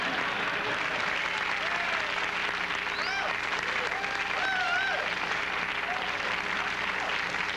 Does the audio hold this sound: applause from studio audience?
yes